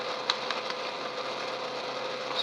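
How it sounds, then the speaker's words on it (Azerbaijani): A vehicle engine runs at a steady idle, a faint, even mechanical drone with a couple of small clicks and ticks, heard alone with no voices. "motorun səsini bakalım"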